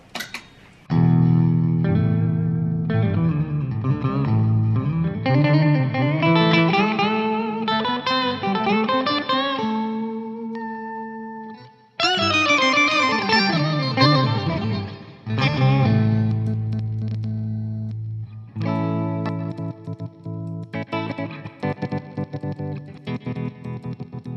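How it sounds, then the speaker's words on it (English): An electric guitar played through a Coppersound Triplegraph octave pedal with the octave-down voice engaged gives thick, doubled low tones, sustained chords and melodic runs, loud and continuous with brief pauses and no talking. "have the octave down set to always on, the octave up set to momentary, and the middle is a kill switch."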